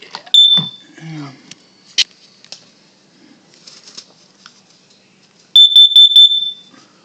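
A household smoke alarm under test gives a loud, shrill electronic beep early on, then a rapid series of four piercing beeps after a quiet stretch of small handling noises.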